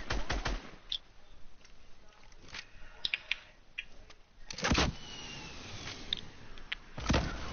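Bursts of video game gunfire crack out in short clusters and single shots, fairly loud over a steady background of game noise, with a louder volley near the middle and another at the end.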